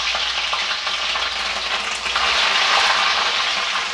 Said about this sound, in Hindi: इसमें डालेंगे हरी मिर्च,